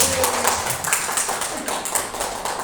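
A group of participants claps their hands together in a classroom game, a fast, fairly regular patter of many claps, steady and fairly loud, with no talk.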